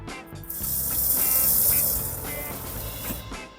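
Water sprays from a 12-volt lawn sprinkler system under test in a garden, a steady close hiss that swells and then fades over a few seconds, with no talking.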